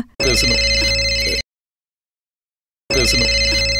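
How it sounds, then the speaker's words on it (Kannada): A mobile phone ringtone plays loudly and steadily, stops for over a second of silence, then starts ringing again. "ಎಲ್ಲೋ ಮೊಬೈಲ್ ರಿಂಗ್ ಆಗ್ತಾ ಇದೆಯಲ್ಲ"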